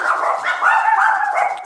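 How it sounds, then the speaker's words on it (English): Dogs bark and yip in a quick, excited run of high-pitched barks close by, with no talking over them. "my dogs are barking."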